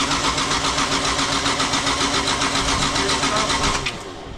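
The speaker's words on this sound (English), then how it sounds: "we're gonna let it crank, build oil pressure" A 2JZ engine swapped into an S13 cranks on its first start, the starter churning loud and close in a steady rapid rhythm that cuts off near the end.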